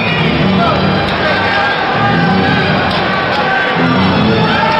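A packed arena crowd at a 1989 Calgary vs Vancouver playoff hockey game roars in a steady, loud wash of cheering and babble, with a commentator talking over it throughout.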